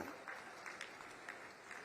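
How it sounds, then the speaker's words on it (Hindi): A crowd at a government agriculture event claps in applause, a soft, distant patter of many hands that stays fairly faint throughout. "और एक बार ताली बजा के अभिनंदन करो जी।"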